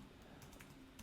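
Typing on a computer keyboard, a soft continuous patter of quiet keystrokes heard alone.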